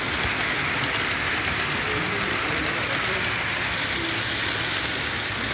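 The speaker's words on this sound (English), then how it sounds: "I'll just run it on at full speed because it always amuses me. It's the oldest, cheapest train I've got here." At a model railway show, the oldest and cheapest model train on the layout runs at full speed, giving a continuous loud whirring and rattling rumble with a steady clatter.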